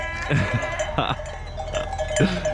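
A flock of sheep on a farm near the Afyon border in Turkey bleats loudly and repeatedly at close range, with bells clanking among them between the calls.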